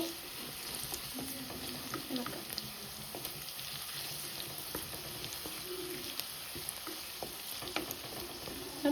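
Fish frying in a small amount of oil in a pan, a steady close sizzle with crackling pops and occasional stirring scrapes running throughout.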